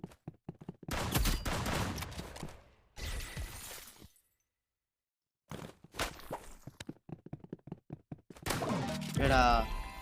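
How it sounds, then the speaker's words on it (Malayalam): Shotgun fire in the Roblox game Rivals: several sharp, loud blasts in bursts with shattering and impact effects, broken by a short silence, while a voice talks over parts of the action. "അവൻ ഷോർട്ട് ഗണ്ണാണ് യൂസ് ചെയ്യണ."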